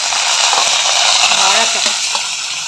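Mustard seeds, urad dal, dried red chillies and curry leaves frying in hot oil for tempering, a loud steady sizzle with faint stirring scrapes.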